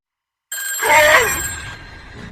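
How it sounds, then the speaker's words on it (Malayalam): A telephone in a horror movie scene bursts into a single loud ring after a moment of silence, then fades into a lingering hum. "കൂടെ അവിടെയുള്ള ഫോൺ റിംഗ് ആവാൻ തുടങ്ങി"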